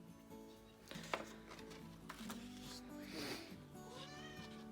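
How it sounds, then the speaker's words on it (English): Close meows from a cat, several short calls with gliding pitch spread across a few seconds over a steady background hum, with no talking. "That's my cat. She says good morning."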